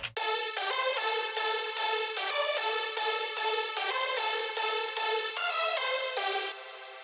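Several layered synth leads from an Astra Destiny remix play together, a bright, dense stack of tones pulsing in a steady repeating pattern, loud and close with no voices, cutting off near the end.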